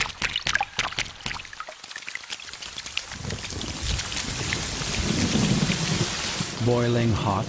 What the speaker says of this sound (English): the first rain.